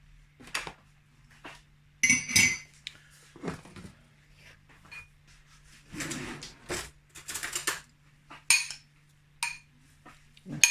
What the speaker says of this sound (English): So I'm mixing up the white and the green